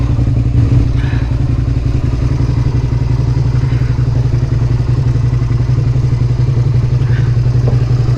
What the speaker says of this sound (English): building up some of the revs so that the clutch was holding it up